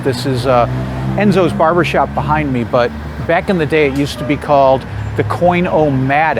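Street traffic on Atwells Avenue in Federal Hill, Providence, rumbles as a low, steady background beneath continuous close talking.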